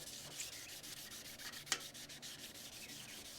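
Wet 1000-grit sandpaper rubs surface rust on a 1981 Honda CM200T Twinstar motorcycle in steady, close, back-and-forth strokes, with a soft scratchy hiss and one brief sharp scrape.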